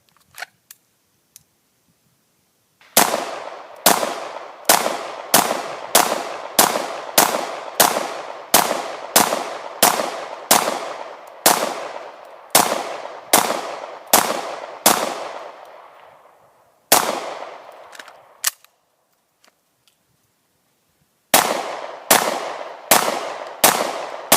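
Smith & Wesson 9mm Shield pistol firing outdoors, a rapid string of about fifteen loud sharp gunshots at a steady pace, each with a short ringing tail, then a pause, one more shot, and a final quick burst of four.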